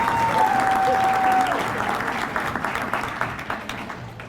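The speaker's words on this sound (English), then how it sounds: "Let's give one final round of applause for all of our candidates." An audience at a coronation ball for the Windsor Shad Derby gives the candidates a steady round of applause, dense at first and then thinning into scattered claps as it fades, with a faint sustained tone early on.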